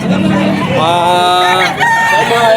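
Roosters crow at a fighting-cock market, with one long rising and falling cock-a-doodle-doo ringing out loud and close. Other birds and market noise fill the background.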